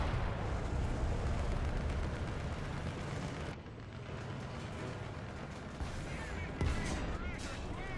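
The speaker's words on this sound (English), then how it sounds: "But it raised quickly enough for me to finally finish off that Abrams right there." Tank cannon fire in War Thunder, a T-64B battling an Abrams, heard as heavy booming blasts and rumbling battle noise with a sharp report near the end, under a speaking voice.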